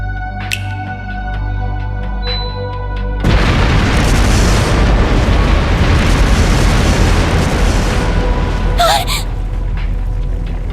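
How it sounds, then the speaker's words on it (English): Explosive artifacts detonate inside a palace in the role-playing game Trails through Daybreak: after a quiet, tonal stretch, a sudden loud blast hits and becomes a sustained roaring rumble, with a brief sharp burst near the end. "Explosive artifacts!"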